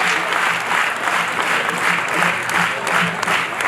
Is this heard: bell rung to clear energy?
no